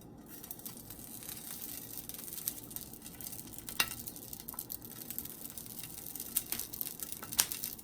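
Besan-stuffed chilies frying on a heated pan, a quiet continuous sizzle with scattered light crackles and pops, no talking.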